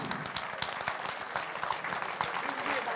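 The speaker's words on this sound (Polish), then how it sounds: "Wielkie, wielkie brawa." A seniors' concert audience gives a singer sustained, dense applause, many hands clapping together in a steady roar that fills the room throughout.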